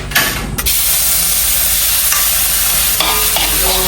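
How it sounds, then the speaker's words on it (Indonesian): Meat for coto Makassar, mixed with ground spices, is sautéed and stirred in a pan until its liquid cooks off, giving a loud, steady sizzle and hiss with scraping stirs and no talk. "mari kita tumis dulu ya sampai airnya kering, baru kita tambahkan minyak"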